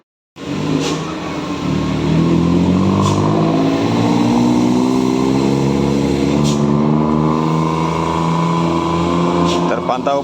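An ANS bus climbs the steep Sitinjau Lauik incline in the morning, its engine labouring and rising in pitch under load for several seconds, close and loud, with a few sharp clacks and voices talking.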